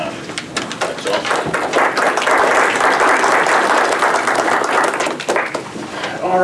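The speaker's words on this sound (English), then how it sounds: "there ought to be an applause for their volunteer for the county" A county commissioners court meeting room breaks into loud, sustained applause for county volunteers, dense clapping from many people that swells and holds, with some talk mixed in.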